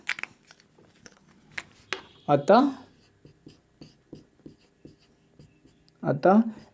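Chalk or marker tapping and scratching out an answer on a board in a class 10 math lesson on HCF by Euclid's division algorithm, a run of short strokes between bursts of a teacher talking.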